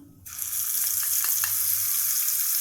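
Cumin and asafoetida tempering sizzling in hot ghee, a loud steady crackling hiss that bursts in after a brief quiet start, with a few soft clinks and stirs, no voices.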